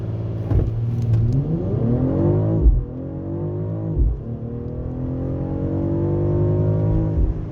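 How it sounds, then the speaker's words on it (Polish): A 2024 BMW XM 50e plug-in hybrid SUV engine revs hard and climbs through the gears during a 0-100 km/h run, pitch rising then dropping at each shift, loud and close, a sustained acceleration. "Zobaczmy, ile ten samochód ma do setki."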